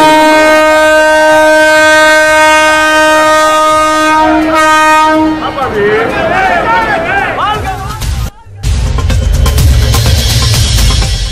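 A loud, sustained train horn blares for several seconds, then the Tejas passenger train from Chennai Egmore to Madurai rumbles and clatters past close by at Tambaram.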